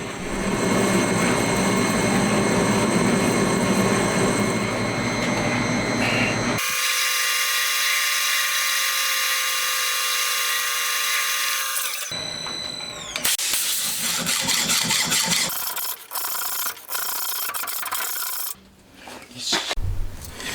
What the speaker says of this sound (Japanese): テーパー削り終わったら2箇所溝を作って最後に切り離します。